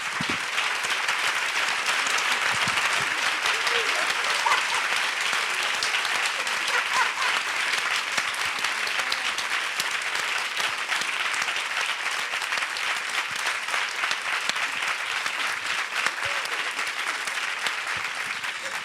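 Loud, vigorous applause from a studio audience welcoming three guests, a thick continuous roar of clapping that holds at full strength for the whole stretch without speech.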